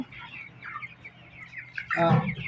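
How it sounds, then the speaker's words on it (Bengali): Chickens cluck in a poultry farm shed holding about eight hundred birds, with scattered soft calls that swell into a louder, closer burst of clucking near the end. "এখন বর্তমান আষ্টশো মুরগি আছে"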